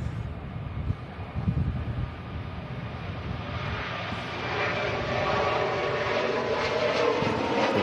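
An Air Transat Airbus A321neo jet passes at Manchester Airport, its engine roar building from a distant rumble into a loud, sustained broadband whine that swells steadily over several seconds with some wind buffeting.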